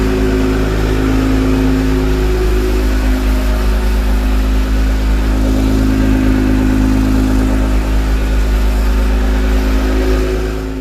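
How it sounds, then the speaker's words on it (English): An Acura NSX NC1 fitted with new Science of Speed downpipes idles loudly after a cold start, its engine cover off, giving a steady, close exhaust drone with a slight rise and fall in pitch. "The cold start was a little bit louder than I really expected"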